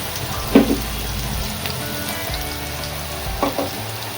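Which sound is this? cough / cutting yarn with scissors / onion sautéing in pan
onion sautéing in pan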